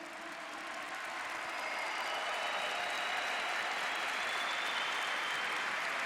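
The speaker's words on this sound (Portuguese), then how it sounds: "Pode aplaudir o Senhor." Church congregation applauding at a worship service, a broad, steady swell of clapping that builds slightly and holds, with faint tones ringing over it.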